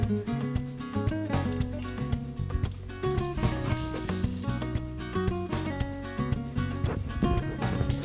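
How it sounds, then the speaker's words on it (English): Sizzling of bay leaves frying in hot oil, heard continuously under prominent background music. "First, you put in the bay leaves."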